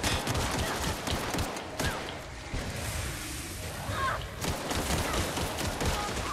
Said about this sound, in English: It's because we're using a pistol.